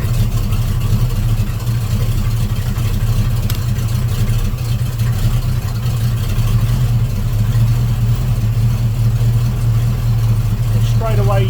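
A Volvo Penta 454 marine engine runs with a steady, loud low rumble after its distributor timing is advanced, the revs holding high and even throughout with no speech.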